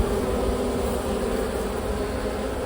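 Honey bees fan at the entrance of a newly installed package hive, a dense, continuous close buzzing drone with no voices.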